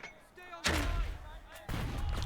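Mortar fire in Burden of Command lands as two heavy booming impacts about a second apart, each followed by a sustained rumble, loud and close.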